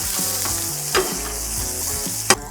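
Leftover turkey seasoned with Cajun two-step, pepper and salt sizzles steadily on a Blackstone griddle while being stirred, with spatula scrapes and a sharp clack near the end; no voices.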